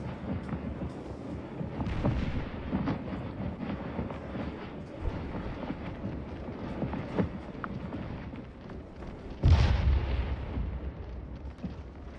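Artillery guns firing in a Scourge of War Gettysburg battle, a low rumbling barrage of distant booms that rolls on steadily, with one louder, closer blast near the end.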